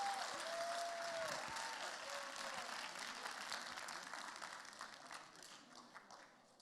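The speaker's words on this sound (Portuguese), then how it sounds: "vamos dar uma salva de palmas para os novos membros que vieram hoje aqui" Audience applause for new members of a success academy event in São Paulo, a sustained crowd of clapping hands that stays steady, then slowly thins and fades toward the end, heard alone without talk.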